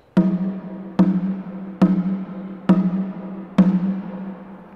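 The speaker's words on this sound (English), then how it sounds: "The next drum is a drum called a sangban." A sangban, the middle drum in a djembe orchestra, is struck five times at a steady pace. Each hit gives a clear, ringing tone that decays before the next one, played solo and close up.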